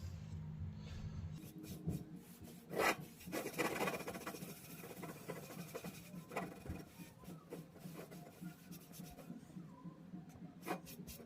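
Someone coats and waxes a cast iron pan during restoration, making faint, continuous rubbing and scraping with scattered brief scuffs and no talk.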